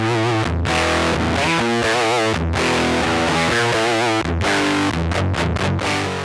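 Electric guitar played through a JHS 424 Gain Stage overdrive pedal, thick distorted chords and sustained notes ringing continuously and loud, with brief stops between phrases.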